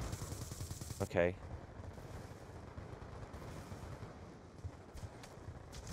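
Gunfire in Black Ops 2, a quick rattling burst of automatic shots near the start over a low game rumble, then faint scattered pops further off, with a brief voice speaking.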